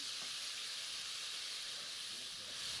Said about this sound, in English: so you could stir fry in a skillet